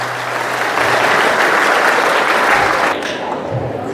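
Loud audience applause at a school event for the principal, many hands clapping steadily for about three seconds before dropping off into quieter room noise.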